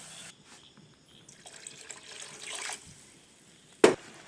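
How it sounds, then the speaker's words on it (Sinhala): Water pours into a pan of frying chili powder, giving a soft trickling splash that rises briefly, then a sharp clack of a utensil near the end, with no talk. "I'm going to add water."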